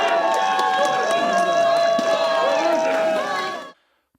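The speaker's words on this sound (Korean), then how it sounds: "무죄 선고 직후 법원 주위에는 박수와 함께 시민들의 환호성이 터져나왔습니다." Citizens outside a courthouse burst into applause and cheering right after a not-guilty verdict, a dense crowd roar with sustained clapping and whistles that holds steady for over three seconds before cutting off.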